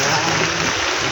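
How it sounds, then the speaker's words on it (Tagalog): Steady rain pours outdoors during rural wire-fencing work, a dense, continuous hiss that stays close and even throughout without any break. "ayaw lumubay ng ulan"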